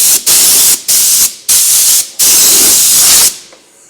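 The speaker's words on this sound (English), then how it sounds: "Gonna take the air hose," An air hose blows off a wheel on a John Bean BFH1000 wheel balancer after its sticky weights are removed: four short, loud hissing blasts, then one longer blast that cuts off, close up with no voices.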